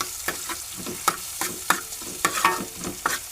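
Green chillies tossed with salt in a hot pan: a steady sizzle with sharp, regular spoon-scraping strokes about every half second, close and fairly loud, with no talking.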